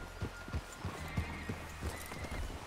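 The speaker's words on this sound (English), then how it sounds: "Is that horse okay, Arthur?" In the video game Red Dead Redemption 2, a horse whinnies amid a steady run of hoofbeats clip-clopping, fairly close and moderately loud, with faint background noise.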